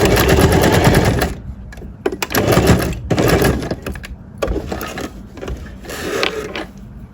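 A sewing machine stitches men's trousers in close, loud rapid bursts of mechanical clatter separated by short pauses.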